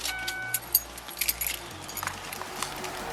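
Car keys jangle as they are handed over during a police traffic stop, giving light, scattered metallic jingles and clinks at close range over a low background hum.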